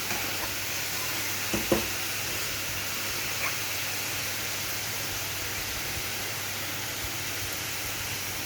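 Masala spices cook in a pan with a little water added, giving a steady, hissing sizzle at even loudness throughout, with a couple of soft stirring knocks early on.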